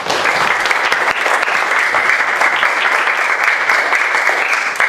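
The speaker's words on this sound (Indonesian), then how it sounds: "Tepuk tangan untuk Dani" Steady, loud applause from a class of children for a classmate at the end of an Indonesian school lesson, continuous dense clapping lasting the whole five seconds with no talking.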